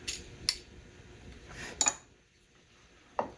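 A knife scrapes out a thumbnail-shaped groove with a fillet and round-over, giving a few short, faint scraping strokes separated by quiet pauses.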